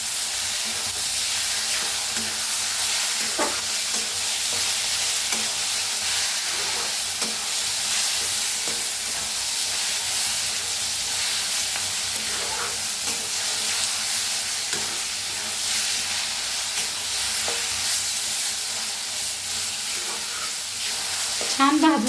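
Eggplant bharit mixture with salt is stirred and roasted in a pan, giving a steady sizzling hiss with scraping stir strokes throughout, with no talking.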